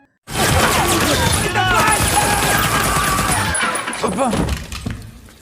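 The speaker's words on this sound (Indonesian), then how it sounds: "Simeon keluar dari kamar mandi dan menembak ke seluruh penjuru" Dense gunfire rips through a film scene as a man bursts out of a bathroom shooting in every direction, a loud continuous barrage of shots mixed with crashing and shattering.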